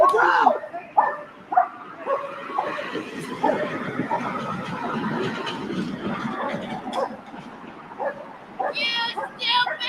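A dog barks and yips in repeated sharp bursts close by, mixed with excited human shouting and talk throughout.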